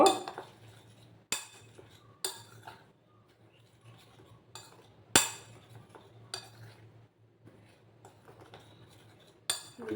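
A spoon mixes flour, semolina and a pinch of salt in a bowl, with scattered sharp clinks and scrapes against the bowl over a quiet background.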